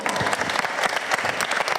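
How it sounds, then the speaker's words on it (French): A crowd at an improvisational theatre evening applauds loudly, with brisk, overlapping claps forming a full, steady burst from start to finish. "On les applaudit."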